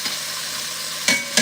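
Oxtails searing in a hot pan give a steady close sizzle, with two brief louder bursts of spitting or stirring near the end.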